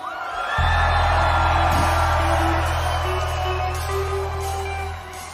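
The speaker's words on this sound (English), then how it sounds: "I want all the young people scream at me" Concert crowd of young people screaming and cheering for a singer in a steady, loud roar that lasts several seconds, with a low musical drone underneath and faint whoops rising above it.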